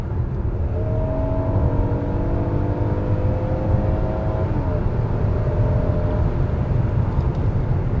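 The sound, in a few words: Hyundai Palisade 2022 accelerating in sport mode to pass a truck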